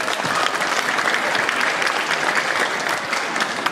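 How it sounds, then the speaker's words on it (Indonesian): Audience at an education event applauding the head of the education office, a loud, dense, even roar of many hands clapping with no talk. "Tepuk tangan untuk Pak Kadis."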